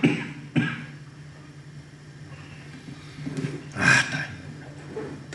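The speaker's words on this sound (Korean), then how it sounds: "기침 좀 하겠습니다." A man coughs several times in a quiet room, with sharp bursts at the start and a harsher, louder cough near the end, close to the microphone with no speech between.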